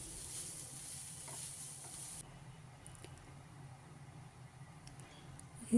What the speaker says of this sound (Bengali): পানিটা ভালো করে চিপে নিয়ে আমি সয়াবিনটাকে একটু ভেজে নিচ্ছি